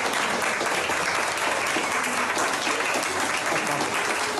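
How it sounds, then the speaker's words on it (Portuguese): Steady, loud applause fills a few seconds as a crowd celebrates a woman named Mariana's victory, continuous dense clapping without pauses. "E ontem foi a vez de Mariana receber os aplausos da vitória"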